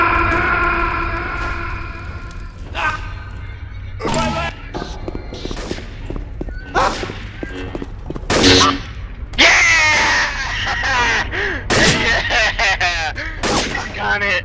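Rapid automatic sniper rifle fire in Left 4 Dead 2, sharp repeated cracks in irregular bursts layered with other game sounds, honking-like effects and intermittent talk throughout.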